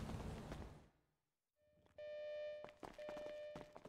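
A house alarm beeps during a video game home robbery, a steady sustained electronic tone with stacked harmonics that starts abruptly after a quiet gap, broken briefly and resumed, amid clattering noises.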